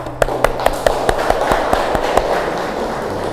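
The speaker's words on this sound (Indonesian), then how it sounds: "Kita aplaus dulu dari kelompok 1 ya." A classroom in an Indonesian economics lesson gives a student presentation group a short round of applause, sharp claps in a quick steady rhythm that fade out after about three seconds.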